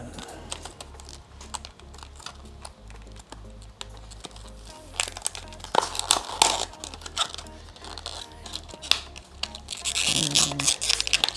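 Plastic packaging of an HP USB 3.1 x302M OTG flash drive being cut open, with scratchy crinkling and irregular snips and taps at close range, growing busier and louder toward the end over a low steady hum.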